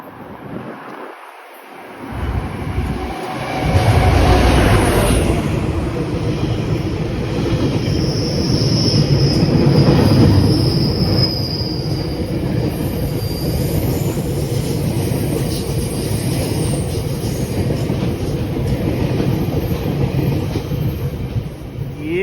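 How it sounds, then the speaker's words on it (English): A fast GO commuter train roars past on a Toronto line, a loud sustained rush of wheels and rail noise with wind buffeting the microphone, building quickly and holding steady for about twenty seconds. "a fast GO train."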